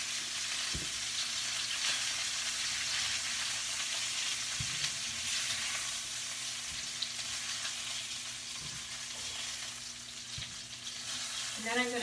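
Chicken frying in a caldero pot, a steady soft sizzle with occasional scrapes and clunks of stirring, close up with no voices.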